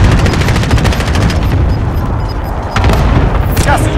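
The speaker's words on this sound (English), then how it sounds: "friendly precision airstrike inbound" Dense, continuous gunfire and heavy booms from a friendly precision airstrike in a shooter game, rolling bursts close and loud throughout with no pause.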